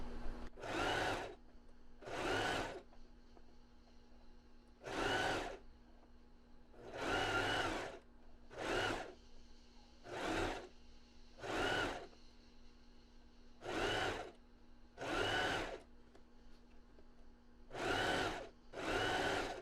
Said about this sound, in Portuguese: E agora eu vou costurar assim, achatando a costura até o final, até o outro lado.